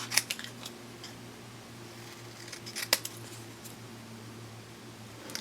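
Scissors snip through paper to cut out a small Halloween boo shape for a craft project, with a few sharp, close clicks and snips scattered over a quiet background.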